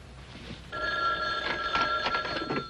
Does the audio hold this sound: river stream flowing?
no